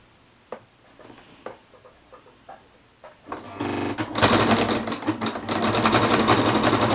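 A sewing machine stitches zigzag binding onto a baby blanket, starting with a few light clicks and taps, then revving into a loud rapid whirring chatter that runs steadily to the end, with no voices.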